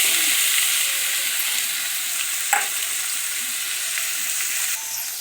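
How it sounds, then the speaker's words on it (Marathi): Onion, tomato and chili hit hot oil in a pan and fry with a steady, loud, bright sizzle, broken by a brief clatter of stirring near the middle. "तेल गरम झालं का त्याच्यामध्ये आपण हे कांदा, टोमॅटो आणि मिरची, खोड मिरची"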